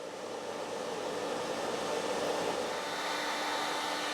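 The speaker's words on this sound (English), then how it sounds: "I'm gonna go ahead and hit the blow dryer on the next level up" A blow dryer runs on an Allpowers R1500 portable power station, giving a steady, close, airy whoosh with an even motor hum and no talk.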